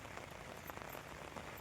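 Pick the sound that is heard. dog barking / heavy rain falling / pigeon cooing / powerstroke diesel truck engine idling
heavy rain falling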